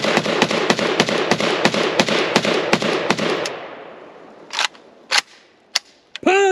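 Polish PAC Pioneer AKM Sporter rifle firing 7.62x39 at a range: a rapid string of about fourteen loud, sharp shots in steady rhythm, followed by a few spaced single shots and a trailing ring after the burst.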